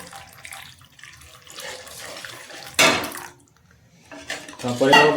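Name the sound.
pouring water into soya chaap curry while cooking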